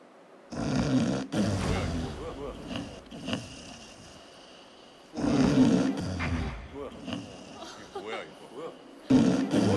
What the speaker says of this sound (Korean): 우리가 다 아는 코골입니다